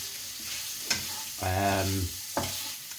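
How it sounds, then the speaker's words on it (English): Smoked bacon being stirred in a pot for chili, a soft sizzle under a few spoon scrapes and a brief tonal hum in the middle, close and without talk. "I'm just stirring the smoked bacon"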